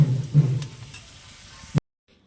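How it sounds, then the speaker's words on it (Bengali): Steady sizzle of onions and cumin frying in hot oil with a light stir, cutting off abruptly into silence. "ওই তেলের মধ্যেই জিরে ফোড়ন দিয়ে আমি পেঁয়াজগুলো দিয়ে দিয়েছি"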